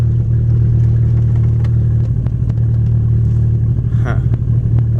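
Loud, close Dodge Caliber SRT4 engine idling roughly, a strong low drone with uneven, lumpy pulses and occasional knocks, with a voice heard briefly over it.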